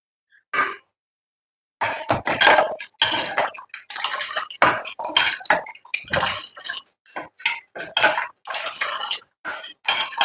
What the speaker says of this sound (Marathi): आता आपण दुधामध्ये मिक्स करायचं आहे.